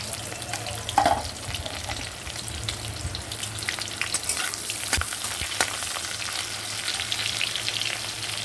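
Two small chopped onions fry in hot oil in a pan after the spices, a strong continuous sizzle with a few stirring scrapes, close up and without talk.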